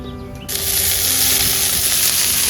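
Chopped spring onion flowers hit a pan of half-softened frying onions in a Sri Lankan village-style Tamil stir fry, setting off a loud, steady sizzle that swells after a quieter start and carries on unbroken, close up with no talk.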